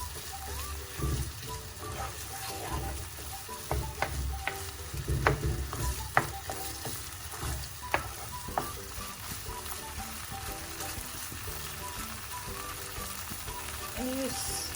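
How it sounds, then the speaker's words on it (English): Prawn curry paste sautéing in a pan over medium-high heat, a continuous sizzle with repeated scraping and clinking of a spatula, fairly close and moderate, with a voice speaking softly over it. "Bring the flame to medium high and saute this for 2-3 minutes."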